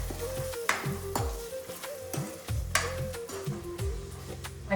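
Prawns cook in a pan with no water added, giving a steady close sizzle over a low hum, with a few clinks of stirring utensils now and then and no speech.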